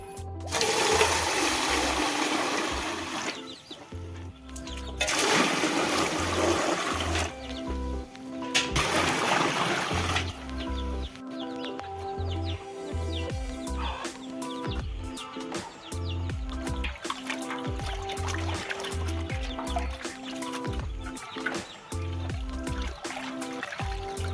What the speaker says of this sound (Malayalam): ഇത് പർപ്പിൾ ചീര ഇനി നമുക്കത് കഴുകി നന്നായിട്ട് കഴുകി അരിഞ്ഞെടുക്കാം